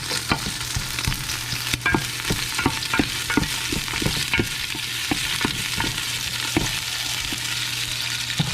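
A large batch of onions fries in oil for chicken curry with coconut milk and pineapple, a continuous nearby sizzle punctuated by rapid, regular spatula strokes scraping the pan, with a low steady hum underneath and no talking.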